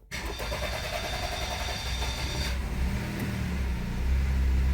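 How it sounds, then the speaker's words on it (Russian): Honda N-WGN kei car engine cranking and catching after some servicing, settling into a steady close-up idle that grows slightly louder toward the end. "Сейчас запускаем машину."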